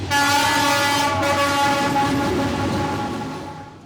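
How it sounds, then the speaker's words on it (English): A train rumbles past close by in Hanoi, Vietnam, loud and steady, with a sustained horn tone ringing over the rolling noise before it begins to fade. "Wait a second, there's a train."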